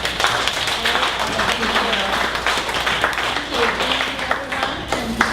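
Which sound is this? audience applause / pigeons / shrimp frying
audience applause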